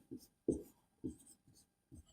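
Chalk or marker strokes on a board during a physics lecture, five short scratchy bursts in an uneven rhythm with brief pauses between, close and moderately loud, no talking.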